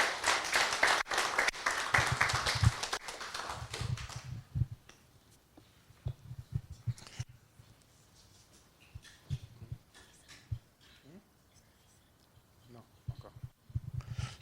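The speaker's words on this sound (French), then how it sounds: "Merci beaucoup, on applaudit les enfants qui sont bien travaillés." An audience at a church gathering claps for the children, a dense burst of applause lasting about four seconds that fades into a voice speaking with scattered faint claps.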